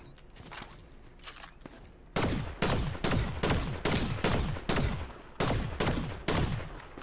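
Video game battle gunfire: a few faint, distant shots at first, then a loud, close run of about eight evenly spaced rifle shots, each with a sharp crack and a short decaying tail.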